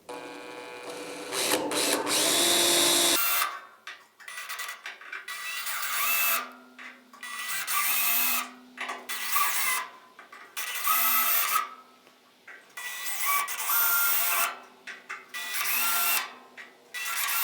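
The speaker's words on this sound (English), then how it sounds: "Let's go ahead and get a center spot drilled on all these" A drill bores center spots into spot welds on a car door of a GTO restomod, about seven short high-pitched whirring bursts separated by brief pauses, close and loud, after an initial longer run.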